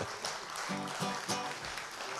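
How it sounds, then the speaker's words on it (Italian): Applause from a theatre audience at a variety show, steady dense clapping filling the room, moderately distant and continuous throughout. "C'è un applauso."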